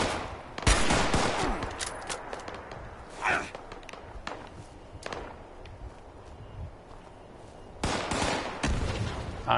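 Gunfire in the video game Fallout 76 comes in loud bursts near the start and end with scattered single shots and thuds between, over a steady game background.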